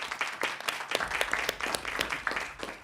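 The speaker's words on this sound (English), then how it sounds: "just want to have a final round of applause for all of our presenters this evening." Audience applause for presenters at an evening solar event, a steady wash of many hands clapping at moderate distance, dense and continuous with no talk over it.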